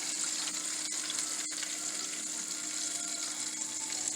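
Shrimp fry in hot grease with a steady, dense sizzle and crackle, loud and continuous throughout, with a couple of brief dips in the hiss and no talking.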